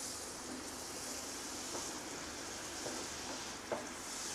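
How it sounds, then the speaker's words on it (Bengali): Spice masala for butter paneer masala sizzles in a pan with a splash of water, a steady hiss of frying broken by a few soft scrapes and knocks of stirring. "মশলাগুলোকে খুব ভালো করে আমরা কষিয়ে নেব"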